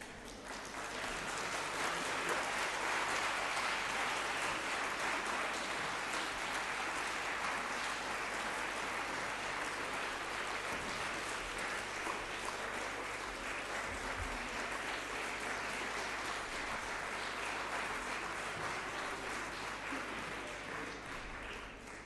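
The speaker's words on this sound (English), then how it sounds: "You may give her a round of applause." Sustained audience applause fills a lecture hall at a Sorbonne Nouvelle conference, a dense, steady wash of clapping that holds for over twenty seconds and slowly tapers near the end.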